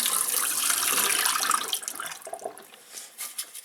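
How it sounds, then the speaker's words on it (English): Water gushes out of a jar in a steady splashing pour, then breaks into uneven gurgles and trickles as the flow tapers off. "dump the water out."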